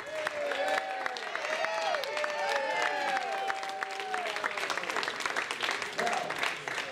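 An audience at a family reunion claps warmly and continuously, with a few cheers and voices mixed into the applause.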